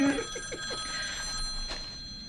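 A telephone rings in a cartoon episode, a steady electronic ringing tone with bright sustained overtones, fairly faint and alone with no talking over it.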